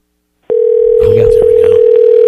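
A steady telephone tone sounds on a call line, continuous and fairly loud, with faint muffled voices and clatter in the background.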